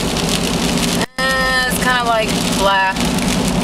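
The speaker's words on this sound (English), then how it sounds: "It's a really crappy and rainy day." Steady hiss of rain falling on a grey, rainy day, mixed with passing traffic noise. A person talks briefly over it.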